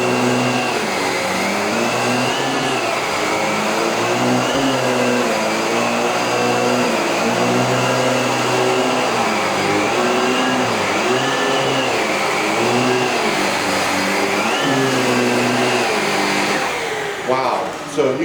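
A Dyson DC17 vacuum cleaner runs steadily and loudly up close, its motor whine holding constant, with slight wavering in pitch as it works across a rug, before cutting off at the end.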